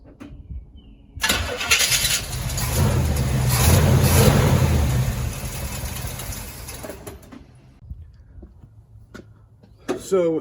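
A 1966 Chevy big-block engine cranks and catches with a loud rumbling rush, runs roughly for several seconds, choking and sputtering before it dies, then briefly cranks again at the end.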